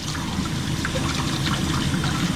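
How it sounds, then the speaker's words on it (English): Water runs steadily into a slop sink while a duct part is rinsed, a continuous close trickling and splashing hiss with no talking. "I just let the slop sink get a little water going through"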